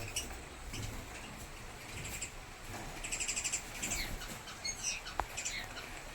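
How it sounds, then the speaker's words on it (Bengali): Java sparrows and cockatiels in a home aviary chirp and twitter in soft, scattered bursts, fairly faint and with no talking. "এখানে তো জাভা পাখি আছে, ওরাও খেলা করছে, ভালো আছে খুবই।"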